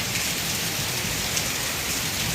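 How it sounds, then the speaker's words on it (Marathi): Heavy rain pours down steadily, a dense, continuous hiss of drops with no pauses. "खूप म्हणजे खूप मोठा पाऊस पडला"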